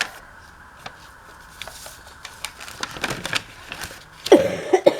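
Scattered dry coughs and throat clearing from a crafter working with coffee-dyed paper, faint at first and growing louder and more clustered toward the end, set against a quiet room.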